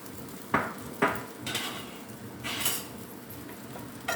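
A sizzler plate of corn noodles and vegetables hisses steadily in short broadband surges, with sharp metallic clinks and scrapes of utensils against the hot plate near the start.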